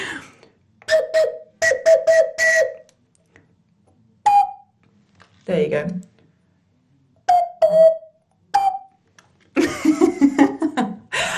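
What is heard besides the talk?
ocarina being played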